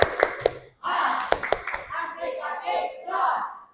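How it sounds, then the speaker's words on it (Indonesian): Schoolchildren in a classroom perform a rhythmic spirit clap with a teacher, sharp synchronized hand claps in a patterned sequence mixed with children chanting along. "Sekarang kita ulang lagi ya, sekali lagi. Tepuk semangat."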